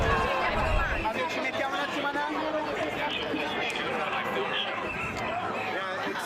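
Protesters gathered at a demonstration ahead of the Democratic National Convention fill the air with a steady, dense babble of overlapping voices, a continuous crowd murmur with no single speaker standing out.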